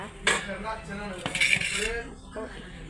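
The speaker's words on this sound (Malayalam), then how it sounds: "കുക്കർ എടുത്തിട്ടുണ്ട് വലിയ കുക്കർ കേട്ടോ" A large pressure cooker is lifted out in a home kitchen, giving several close metallic clanks and clinks of pots and lids knocking together, with a few quieter rattles toward the end.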